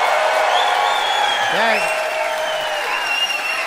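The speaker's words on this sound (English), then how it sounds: "It's up to them to pick a winner by applause." A studio audience applauds for a debater on a comedy debate show, sustained clapping and crowd noise with a host speaking over it.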